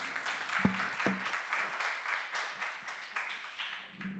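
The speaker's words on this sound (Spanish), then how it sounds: "Aplausos para nuestros invitados, por favor." Moderate audience applause for guests at a university communication symposium, a scattered crowd clapping steadily with a couple of sharper individual claps near the start, heard from a middle distance.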